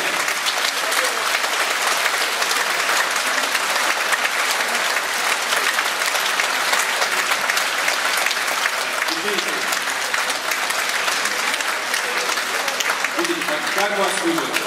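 Sustained concert-hall applause at an ensemble concert in a house of culture, a dense, even roar of many hands clapping throughout, with a few voices faintly audible near the end.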